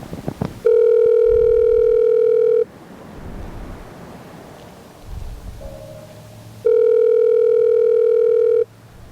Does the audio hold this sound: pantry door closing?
no